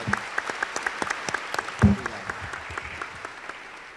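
Scattered applause at a state bar association congress, a few sharp claps with a thin spread of hands, brief and fairly quiet, with a deeper thump near the middle.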